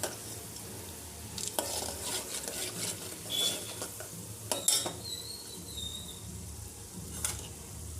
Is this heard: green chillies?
yes